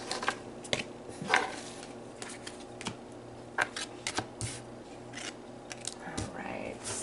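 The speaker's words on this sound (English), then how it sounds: "We'll give the cards a good shuffle." A deck of tarot cards is shuffled up close, giving a string of soft riffling flicks and taps at irregular intervals over a quiet room background.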